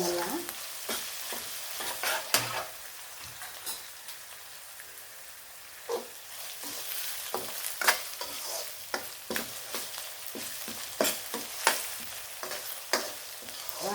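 Crushed ginger and garlic frying in oil in a pan for chicken varuval, a steady soft sizzle broken by repeated sharp scrapes and clicks of a spatulas stirring, close and fairly quiet, no talking.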